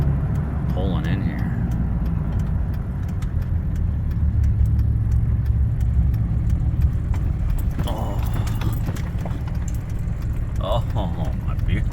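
A car is heard pulling in at a shop and home after a foggy night drive back from Haydays 2024 in Minnesota. The engine and tire rumble is steady and close, with people talking inside.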